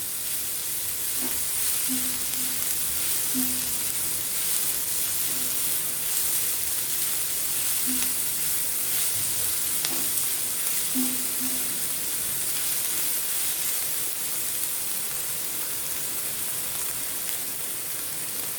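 Onions sauté in a pan for a cabbage and carrot sabzi, giving a soft, continuous hiss and sizzle. A few faint clinks are heard, and no one speaks.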